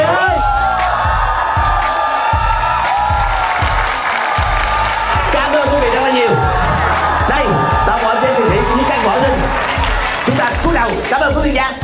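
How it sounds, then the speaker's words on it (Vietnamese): An outdoor audience at a live variety show in the rain claps and cheers loudly and without pause, with whoops and crowd babble, while a host's amplified voice speaks over the applause. "Vỗ tay cho toàn thể anh chị em của chúng tôi."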